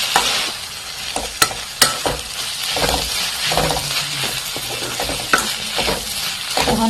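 Masala spice paste fries in a pan with a little water, a steady sizzle broken by sharp scrapes and clinks of a spoon stirring against the pan, close and loud.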